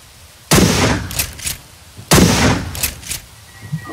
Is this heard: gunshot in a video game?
yes